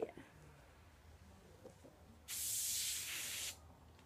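A spray of cleaner hisses onto a small plastic toy figure marked with Sharpie ink, one steady burst lasting just over a second, heard close up after a quiet stretch.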